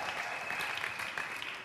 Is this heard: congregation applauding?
yes